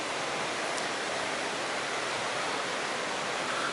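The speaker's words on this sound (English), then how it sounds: "Please bear with me as I cross Millseat Creek, and the background noise may get a little loud." Rushing water of Millseat Creek near the Volta Powerhouse in Shasta County, California, roars as a loud, dense, unbroken wash of noise filling the whole stretch, with no voices.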